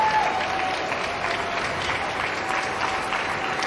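Steady applause from a large indoor crowd at a terrier group judging at a dog show, continuous clapping filling the full stretch at a consistent, fairly loud level.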